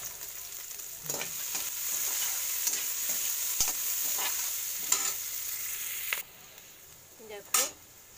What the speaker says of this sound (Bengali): দেখো বিনস ফ্রাই হয়ে গেছে, তো আমি তুলে নিলাম।